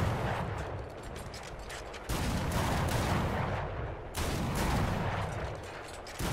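Anti-aircraft guns firing at aircraft in the video game War Thunder: a dense, rapid stream of booming shots that pauses briefly twice and resumes, loud and continuous with no talk.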